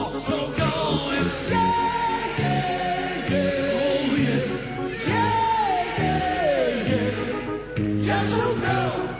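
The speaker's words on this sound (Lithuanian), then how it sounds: "Na dabar visi kartu šaukiaujam." A concert crowd at a band's 20th anniversary show yells and chants together in loud, sustained bursts of many voices that swell and dip across several seconds.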